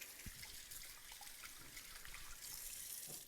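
A kitchen tap runs while hands are washed, giving a soft, steady hiss of flowing water with a few small splashes and drips, close but quiet.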